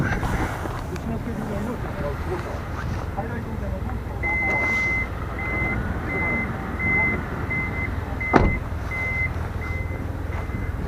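A steady series of short, evenly spaced electronic beeps from the electric rear tailgate of a 2017 Toyota Alphard/Vellfire sounds over low background rumble, with a sharp click partway through.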